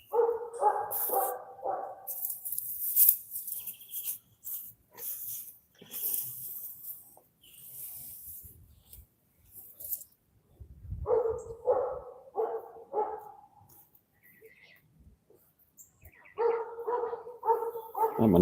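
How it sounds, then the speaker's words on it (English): A neighbor's dog barks in repeated bursts of several quick barks in a garden, with quieter rustling and shuffling between the volleys. "She actually called the dog."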